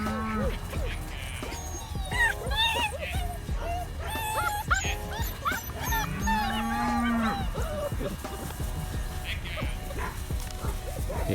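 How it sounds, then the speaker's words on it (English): Cattle low in the background, with one drawn-out moo rising midway, while puppies yip and bark nearby and people chatter over the top. "Cattle herding in the background."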